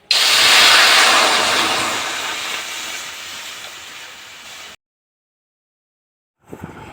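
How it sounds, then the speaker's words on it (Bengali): Water poured into a hot kadai just after cumin was fried for a crispy semolina and potato snack bursts into a loud sizzling hiss that fades steadily over several seconds, then stops. "এবার কড়াই জল দিয়ে দেব।"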